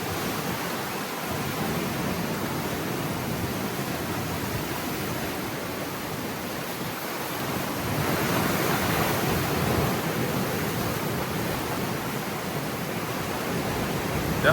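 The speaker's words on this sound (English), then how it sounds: "look at those waves" Rough surf rolls onto a beach at Koh Tao, Thailand, a steady, full roar of breaking waves that swells louder partway through, with no voices over it.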